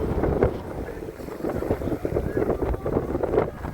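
Gusty wind buffets the microphone in uneven bursts over the Sado River in Portugal during a bathtub boat regatta, a constant blustery roar with occasional louder gusts.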